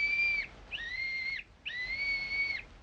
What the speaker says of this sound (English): Blow the whistle quick, Jimmy.